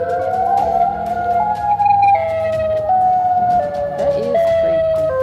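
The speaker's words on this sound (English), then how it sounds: "this sounds like tornado sirens from Chicago" A loud, eerie siren-like wail in the woods, resembling a Chicago tornado siren, holds steady sustained tones that step down in pitch over and over without pause.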